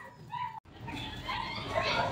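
Dogs at a house give a whining, whimpering yelp, then a short break followed by noisy rustling and faint movement, close by.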